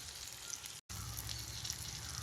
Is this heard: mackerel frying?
yes